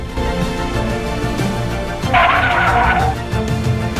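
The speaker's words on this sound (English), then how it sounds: "I had to slam on the brakes to avoid hitting him" A car on a traffic road braking hard, a loud tire squeal and skid rising abruptly over steady road and engine noise for about a second, then fading back to traffic hum.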